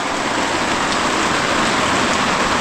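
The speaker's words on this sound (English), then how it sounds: "the rain is coming down now" Heavy torrential rain at a remote campsite in rural West Virginia, a dense, steady hiss of drops pouring onto surfaces at an even, loud level with no voices over it.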